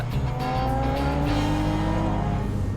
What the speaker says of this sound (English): the engine's running terrible. Feels like it's gonna die.